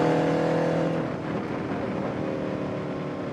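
Spec Racer Ford race cars rumble together on a track in a loud, continuous engine drone, steady and close, easing slightly after the first second.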